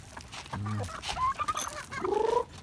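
Backyard chickens and turkeys on a small farm, with a few short clucks and calls standing out close by against a busy background.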